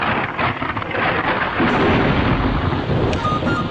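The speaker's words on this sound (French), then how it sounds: "le tonnerre, c'est tout simplement le bruit de l'éclair" A loud, continuous rumble of thunder rolls steadily for several seconds during a storm, broad and heavy throughout, with no voices.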